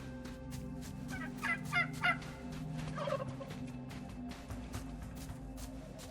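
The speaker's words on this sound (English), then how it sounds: "Turkeys won't bother you for real." Turkeys gobble in the survival game Soul Mask, a few short gobbling bursts close by, rising over a steady low game ambience, with no talking.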